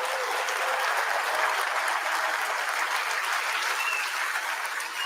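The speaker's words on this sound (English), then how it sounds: "Can you give yourselves a huge round of applause for getting us ready for this launch?" Auto plant workers applaud before a 2025 Ford Expedition rolls off the assembly line, a broad crowd of clapping, steady and sustained across the whole stretch, with a few faint cheers mixed in.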